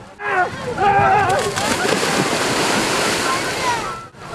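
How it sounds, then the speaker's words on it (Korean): A speedboat races across sea waves off a crowded summer beach in Gyeongnam, with loud rushing water, sloshing spray and buffeting wind noise, and a voice speaking beneath the roar. "보트가 빠른 속도로 질주하며 시원한 물살을 가릅니다."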